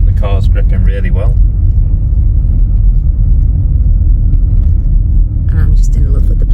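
A car drives along a snowy road in Norway in March amid blizzard conditions, a loud steady low rumble of engine and tyres throughout, with brief voices near the start and end.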